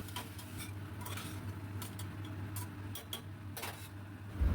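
Light clinks and scraping of a spoon stirring potato curry with chopped tomato and water in a pot, soft irregular taps over a steady low hum.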